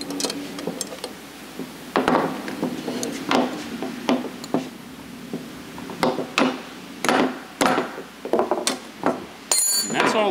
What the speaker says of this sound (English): There's a lot of force when you hit something with a hammer.